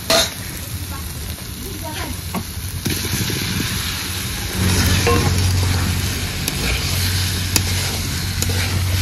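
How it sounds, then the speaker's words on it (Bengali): Fried small potatoes are added to a spice paste that has released its oil, producing a loud, continuous sizzle with stirring scrapes and a low steady hum beneath. The frying grows slightly louder partway through. "মশলা থেকে তেল ছেড়ে দিয়েছে, এবার ভেজে রাখা আলুগুলো দিয়ে দেব।"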